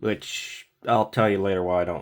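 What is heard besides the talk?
No everyday noises stand out.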